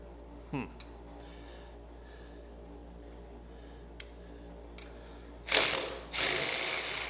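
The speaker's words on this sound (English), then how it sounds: "the ratchet alone without the electric" Hand ratchet clicking as a nut is given final tightening on a C4 front suspension fitted to a 1957 Chevy truck; a few short, close ratchet clicks amid quiet, followed by two louder, longer bursts of mechanical noise.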